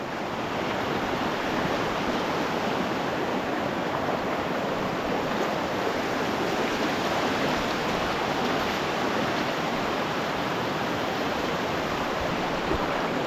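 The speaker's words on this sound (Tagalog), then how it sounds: "Nabigla na lang po itong ilog ay nalaki." A river swollen by heavy mountain rain rushes along in a dense, constant roar that holds steady and loud throughout, with no voices.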